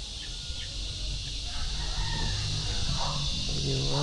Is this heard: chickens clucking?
yes